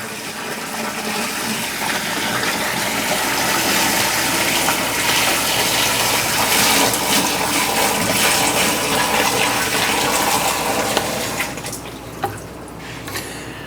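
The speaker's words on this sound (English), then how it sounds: "we're going to pour it in the tank" About three gallons of water are poured into a water softener's brine tank, a loud continuous gushing splash that lasts most of the stretch before tapering off into a few drips and knocks at the end.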